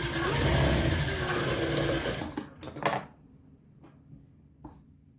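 A sewing machine stitching a blouse runs with a loud, continuous whirring buzz for about two and a half seconds, then stops, leaving a few faint clicks and handling noises.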